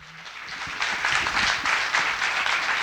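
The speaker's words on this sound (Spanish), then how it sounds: "fuerte el aplauso" An audience applauds at the close of a talk on vegan diets and environmental indicators, a steady broadband patter of many hands that swells after a soft start and holds for a few seconds.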